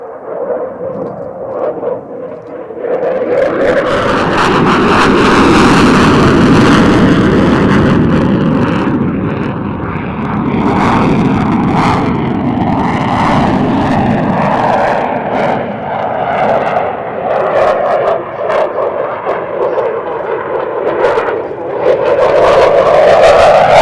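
A Dassault Rafale B two-seat jet at an airshow roars loudly past, a sustained jet engine rumble and whine that swells, shifts pitch as it passes and stays strong to the end.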